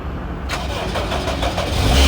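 A Proton Wira car that has sat unused for a week cranks briefly and catches, its engine settling into a loud, close, rough idle that builds slightly toward the end.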